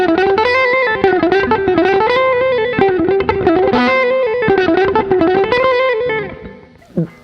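A distorted electric guitar plays a fast blues lick, a quick run of legato notes with the final notes on the top string not picked, close and loud, ending in a short bend and a fade.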